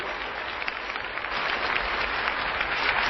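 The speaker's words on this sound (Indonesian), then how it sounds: "Berikan tepuk tangan yang meriah buat Tuhan." A church congregation gives lively applause for God. It is a dense, continuous wash of many hands clapping that swells slightly toward the end.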